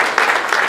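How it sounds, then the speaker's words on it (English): Brief burst of audience clapping for a speaker at a business case-study session on family office networks, a short steady patter lasting under a second. "round of applause here for Andrew"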